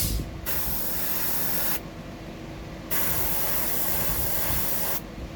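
Loud bursts of spray paint hiss from close range as one more coat goes onto a fishing lure, in three long sprays separated by short pauses with no talk.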